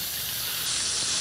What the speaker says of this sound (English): Is now, that the biggest sizzle we've ever had?